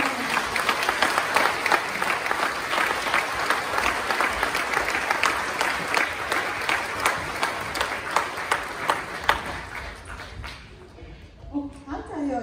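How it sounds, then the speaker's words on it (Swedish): An audience at a Christmas concert by a youth band and drill corps of more than 120 young players applauds with dense, sustained clapping throughout a hall, loud and steady before thinning near the end as a voice begins. "En stor applåd."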